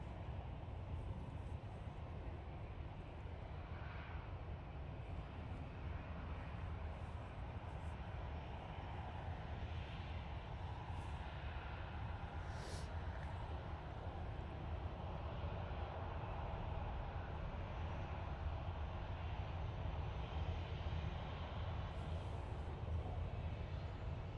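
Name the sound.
Ryanair plane departing Manchester Airport for Dublin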